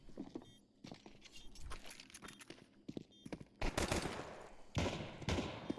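Gunfire in a Counter-Strike match between B8 and 3DMAX, with clattering bursts of rapid shots and sharp single reports that grow denser and louder toward the end.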